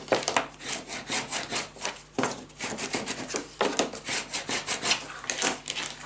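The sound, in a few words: burnishing paper down on a mini album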